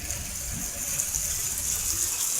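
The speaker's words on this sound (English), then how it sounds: "And the thunder and rain is just pouring down." Heavy rain pours down during a thunderstorm, a dense, continuous rushing wash of water that stays steady and fairly loud throughout with no voices.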